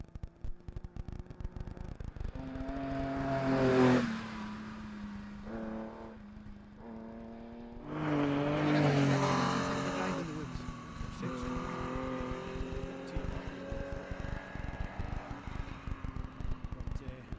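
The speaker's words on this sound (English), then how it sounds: "Here we go, here's the Porsche." A Porsche rally car racing past on a stage at the Royal Aero SRC Craik rally: the engine rises and falls through gear changes as the car nears and passes, with commentary voices over the top.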